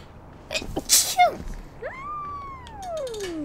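A person gives a single sharp sneeze close up, followed by a long, smoothly falling tone over quiet background noise.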